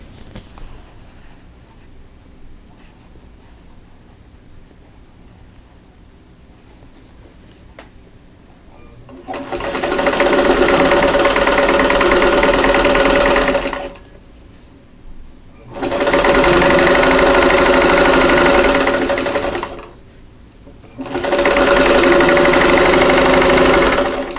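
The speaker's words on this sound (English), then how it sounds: "so I'm just going to sew those together" Sewing machine stitching quilt block pieces together, running loud in three sustained bursts of steady mechanical whirring separated by short pauses.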